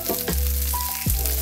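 Steak cooking in a pan on a stove turned just under high, giving a steady sizzle with low rumbling and tonal hum.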